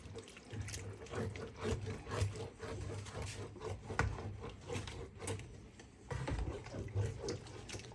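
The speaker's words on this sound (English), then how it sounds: "Are you scraping off the parts that were sticking to the pan?" A utensil scrapes stuck bits off a pan used to cook a Thanksgiving turkey, a quiet run of repeated rasping strokes in an uneven rhythm, with some faint clatter in between.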